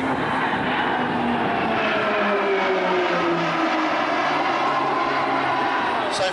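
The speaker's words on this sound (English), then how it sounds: "I'll fly past now for you in very smooth formation." Several propeller aircraft fly past together in close formation at the Yarram Airshow, a loud continuous engine drone whose pitch slides downward as they pass overhead, with a commentator's voice over the public address.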